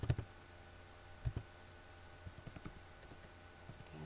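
A computer keyboard and mouse in quiet use give soft, scattered clicks and taps in irregular bursts, faint and close, with no talking.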